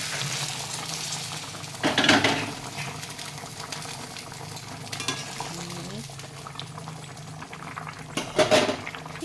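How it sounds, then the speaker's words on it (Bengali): A pumpkin vegetable curry cooking in a pot, a low steady bubbling simmer with a few louder stirring scrapes and splashes at intervals. "তরকারিটা ফুটে গেছে"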